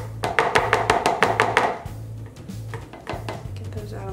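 Soap-making oils for a dragon's blood cold process soap stirred in a container: a quick run of sharp, rhythmic clinks and taps from a utensil against the vessel, close by, then a few scattered knocks over a low background.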